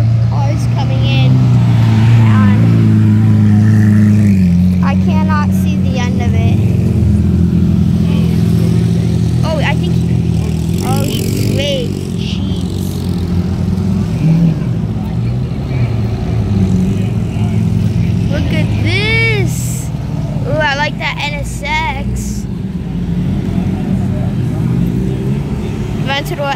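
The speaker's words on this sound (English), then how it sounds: "There's usually just a huge line of cars coming in." A line of cars rolls into a Lamborghini car meet in Newport Beach, engines rumbling steadily and passing close by, while people talk over the continuous motor noise.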